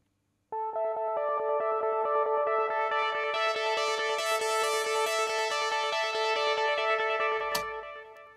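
Sustained synth chord processed through an open filter and delay, bright rhythmic repeats pulsing evenly for several seconds before a sharp click and cutoff, with no voices.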